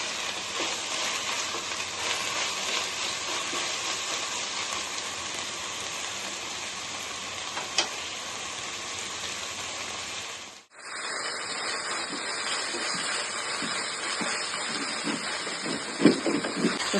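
Tomatoes frying in ginger garlic paste in a pan for egg masala: a steady, hissing sizzle like light rain, with a brief drop partway through before the sizzle resumes, brighter and slightly different, with no talk.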